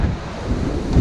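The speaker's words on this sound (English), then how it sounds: "Still windy as hell." Strong wind from a nor'easter storm buffets the microphone aboard a sailboat with a continuous loud rumble and roar, steady with gusty swells throughout.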